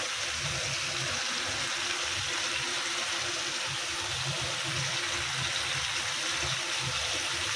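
Water poured into a pan of frying poppy seeds on a gas stove, a steady hissing, gushing wash of sound that runs unbroken throughout, fairly quiet.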